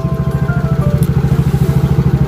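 A Yamaha Mio J motorcycle engine idling after an engine overhaul, a loud, close, steady putter of rapid even pulses with no talk.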